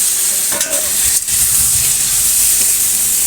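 Chopped pointed gourd stirred into a hot pan of turmeric and spices, frying with a steady close sizzle and hiss plus a few scraping stirs of the spoon, no voices.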